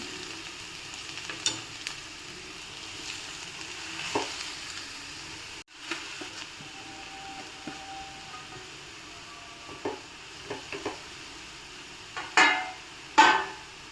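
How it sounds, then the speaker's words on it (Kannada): Carrots fry in hot ghee for carrot halwa, giving a faint, quiet sizzle. Occasional sharp knocks and scrapes of a spoon against the pan punctuate it, growing louder toward the end. "ಎಣ್ಣೆ ಚೆನ್ನಾಗಿ ತುಪ್ಪ ಚೆನ್ನಾಗಿ ಕಾದ್ಮೇಲೆ ನಾನು ಕ್ಯಾರೆಟ್ನ ಹಾಕ್ತಾಯಿದ್ದೀನಿ."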